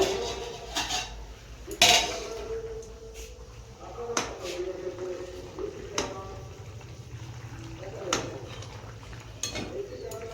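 A metal lid lifted and set back on a pot of simmering curry, a few sharp clanks and clinks spaced apart over low kitchen background with a voice talking now and then.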